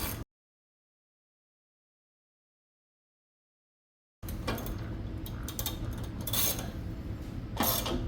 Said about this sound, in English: tighten those down with your 19mm or 3/4